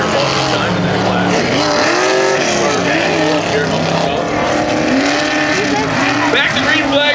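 Formula 4x4 off-road race vehicles roar around the Motorpark Midwest track with loud, continuous engine noise and rising and falling revs from several machines, while an announcer talks over the racing.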